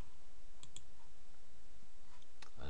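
A computer mouse clicks once on a save button, giving a couple of faint, sharp clicks in a quiet room with a little rustle at the end.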